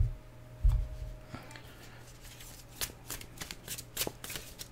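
A deck of oracle cards is shuffled by hand, a soft thump at the start followed by a run of quick riffling flicks and taps, close and fairly quiet with no talking.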